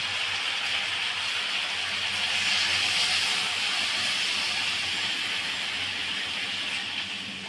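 Water poured into a hot pan of simmering vegetables (yardlong beans, potato, eggplant and lentil dumplings) sets off a steady loud sizzling hiss that swells briefly and then slowly settles.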